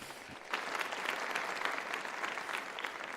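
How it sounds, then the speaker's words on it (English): Summit attendees applaud themselves, a steady wash of clapping that swells in after a brief quiet start and holds at moderate, fairly distant volume. "Give yourselves a round of applause."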